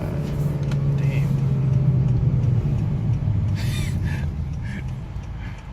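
Turbocharged Honda Accord or Civic engine pulling hard under acceleration, a steady loud low rumble with rising harmonics lasting throughout, with a few faint voices in the background.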